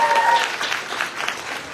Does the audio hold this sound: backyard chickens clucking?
no